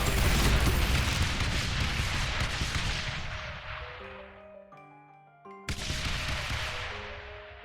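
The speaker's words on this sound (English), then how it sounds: "That's a lot of mortar going on." Mortar towers fire in Rogue Tower, a dense barrage of booming impacts running almost continuously, with a brief tonal lull before the blasts resume loudly.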